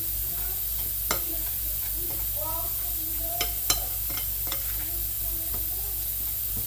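Butter and sugar are mixed into cookie dough in a bowl, with scattered spoon clicks and scraping knocks over a low steady hum, and a faint voice now and then.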